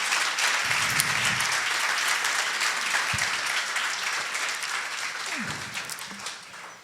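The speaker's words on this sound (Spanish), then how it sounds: "Dale un aplauso a Dios." Church congregation applauding for God during a sermon, a loud, continuous crowd clapping that fills the room for around seven seconds, with a few brief voices and shouts poking through before it tapers slightly at the end.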